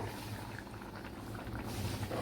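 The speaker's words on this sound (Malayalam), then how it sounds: "ഇതിലേക്ക് തേങ്ങാപ്പാൽ ചേർത്ത് കൊടുക്കാൻ." Soya chunk vegetable stew in a pot, coconut milk stirred in off the heat, giving a steady low bubbling and liquid sloshing, close but faint, with no talk.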